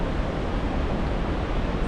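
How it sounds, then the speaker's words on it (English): Takakkaw Falls, a big waterfall in Yoho National Park, Canada, gives a steady, full roar of falling water, broadband and unbroken, fairly close and with no voices over it. "It's a big waterfall, second tallest in North America"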